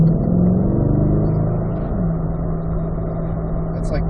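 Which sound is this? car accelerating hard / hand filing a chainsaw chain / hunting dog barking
car accelerating hard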